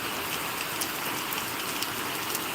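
Very heavy rain pouring down steadily in Mulkanoor, a dense, unbroken hiss of drops hammering surfaces with no pauses.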